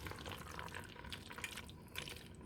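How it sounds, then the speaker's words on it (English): Water is added to a thick Alfredo pasta sauce with mushrooms in a pan, a faint, steady liquid trickle and gentle dripping heard close by for a couple of seconds. "I'm going to add some water"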